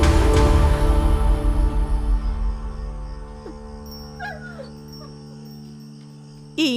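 A dog whimpering indoors, with drawn-out, high, tonal whines that start loud and close, then fade to thinner, quieter cries before a brief sharp burst at the end.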